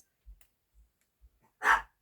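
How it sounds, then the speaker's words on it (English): Neighborhood dogs barking, a few faint distant woofs followed by one louder, closer bark, with quiet gaps between. "And there goes all the dogs. One dog in the neighborhood starts and they all go nuts."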